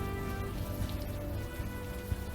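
Steady rain in the video game Unavowed falls in a dense, continuous patter on hard surfaces, with a low drone underneath and no talking.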